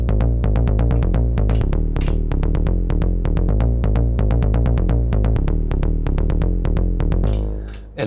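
Synth bass line from an Elektron Digitone re-creating a Streets of Rage 2 track, a punchy, steady sequenced pattern of deep plucked notes with crisp percussive ticks on top, continuous and loud, no voices.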